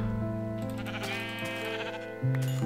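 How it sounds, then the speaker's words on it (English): A Minecraft sheep bleats in the game, a couple of close, wavering cries over a steady in-game background tone, with a louder bleat near the end. "I've got to kill the sheep."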